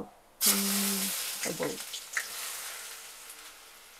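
Onions frying in about four spoons of oil for a chicken fry, a loud sizzle bursting in as they hit the pan and settling into a steady crackle, with brief stirring clatter and a short tonal hum at the start.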